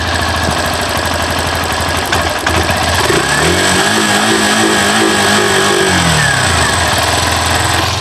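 A Hero Glamour X motorcycle engine runs loud and close, holding a steady buzzing idle before revving up in a sustained rising-and-falling throttle blip, then settling back down.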